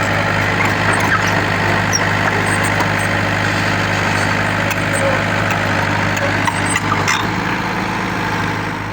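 Crane engine running steadily as the machine drives along a village track behind a tractor-trolley, a continuous loud low rumble and drone with faint voices underneath.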